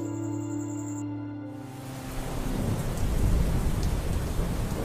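After a short tonal lead-in, heavy rain sets in with deep rolling thunder, building into a loud, dense, continuous downpour.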